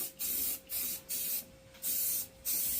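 A spray gun lays a paint coat on a 1997 Mustang GT door in five short, loud hissing bursts, each lasting a fraction of a second, separated by brief quiet gaps over a steady low hum.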